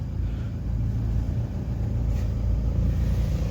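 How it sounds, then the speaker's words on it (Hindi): A Toyota diesel car engine, troubled by misfire and starting problems, runs with a steady low rumble at close range, continuous and unbroken with no voices. "तो अभी ये गाड़ी को हम स्टार्ट करेंगे।"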